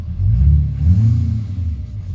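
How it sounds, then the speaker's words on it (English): A 2019 diesel truck engine idles steadily nearby, a loud, continuous low rumble with slight swells and no voices. "It's a great running truck."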